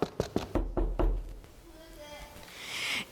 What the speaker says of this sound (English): Mr. Wolf traveled across the woods and knocked on the first red door he found.